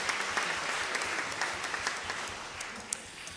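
An audience at a jazz orchestra concert claps steadily after a rendition of a song, a dense, even patter of applause throughout.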